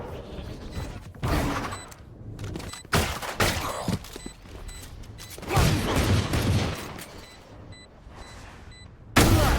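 Gunfire in a Valorant match comes as several sharp bursts of shots and impacts, loud and close, separated by quieter gaps of game ambience.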